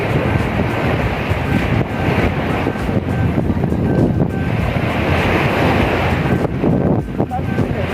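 Loud, heavy ocean surf crashes and roars continuously on a sandy beach, mixed with wind rumbling on the microphone.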